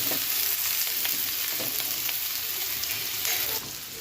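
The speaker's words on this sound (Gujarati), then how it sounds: "પછી આપણે ડુંગળીને પાકવા દેશું થોડીક" Onions, garlic and chillies frying in hot oil with curry leaves and ginger, a steady dense sizzle with occasional stirring scrapes, close and loud throughout, easing slightly near the end.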